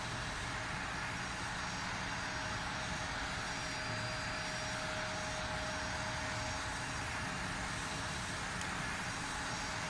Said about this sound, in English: Are the engine sounds from the cockpit this quiet in real life?